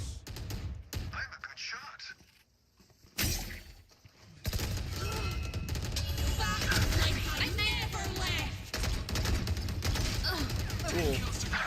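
Gunfire from the tactical shooter game Valorant during a VCT Pacific Kickoff esports match, loud dense bursts of shots and impacts under a continuous caster and crowd din, with a brief quieter gap early on.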